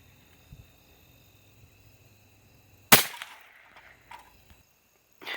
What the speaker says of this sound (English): that was the Federal bulk, high velocity, solid out of the rifle